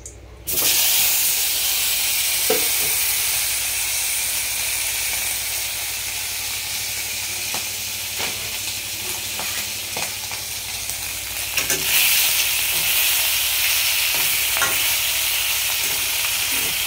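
Fish frying in hot salted oil makes a loud, dense, continuous sizzle and hiss, close up, broken now and then by faint taps and clinks of a utensil. It swells briefly partway through, and no one talks.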